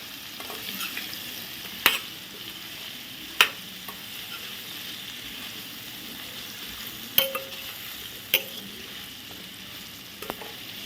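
Stirring methamba, a quick raw mango relish, in a pan as turmeric-coated mango pieces sizzle softly in hot oil, with a steady low fry and a few sharp spoon scrapes and clinks against the pan.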